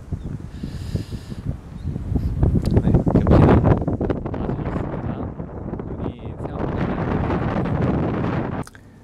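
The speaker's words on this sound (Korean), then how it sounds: "지금 바람이 좀 많이 불고 많이 춥습니다." Strong wind blows outdoors in cold weather in front of the first gate of Mungyeong Saejae, loud rough gusts buffeting the microphone and swelling and easing throughout before dropping off at the end.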